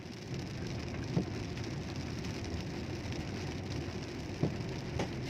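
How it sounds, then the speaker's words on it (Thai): Heavy rain pours steadily and continuously on a busy road, with a couple of faint thumps now and then. "เรียบร้อยครับฝนตกครับ"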